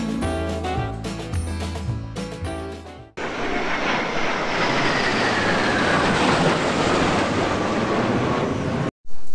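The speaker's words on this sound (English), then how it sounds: "let's ride this train." Ride on a small zoo train in a park, with a loud, steady rumbling roar that runs continuously after a short stretch of music and ends abruptly.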